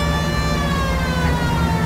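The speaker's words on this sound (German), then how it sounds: "Wir haben ja eine Sirene." A police car siren wails steadily and loudly in the L.A. Noire video game, heard up close over a continuous engine rumble.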